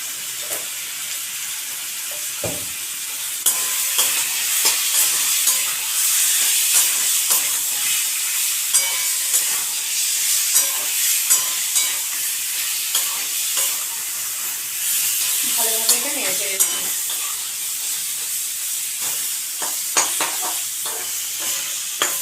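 Spices with turmeric and chili powder sautéing in a pan for a pointed gourd curry, a loud continuous sizzle up close, broken by repeated scrapes and taps of a stirring spoon.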